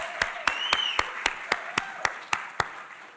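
Steady applause from a crowd, with sharp, evenly spaced claps standing out above a continuous patter of hands, sustained throughout.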